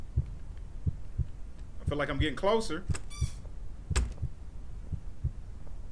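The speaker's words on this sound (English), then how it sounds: "Trying to hear these heartbeats." Muffled, evenly spaced heartbeat thumps pulse low and steady in the horror video game Tape, while someone talks over them in the middle of the stretch.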